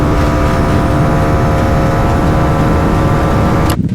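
A Bajaj Pulsar NS400 motorcycle's exhaust roars in a loud, steady, close engine drone that holds constant and then cuts off abruptly just before the end.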